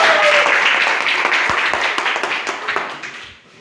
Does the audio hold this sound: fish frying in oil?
no